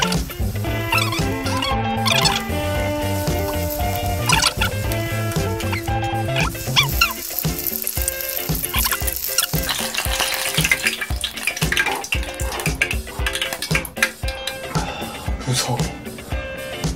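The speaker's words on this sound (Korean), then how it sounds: "이렇게 한 개씩 튀기겠습니다" Apple pieces deep-fry one at a time in hot oil for homemade apple fritters, with a steady dense crackling sizzle that runs throughout and bursts of bubbling and clatter, close and loud.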